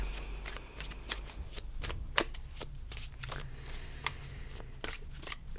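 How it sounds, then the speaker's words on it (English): Tarot cards are shuffled by hand in a quiet room, giving a series of soft, crisp riffles and snaps in an irregular rhythm close to the microphone. "I will be shuffling the cards in the background."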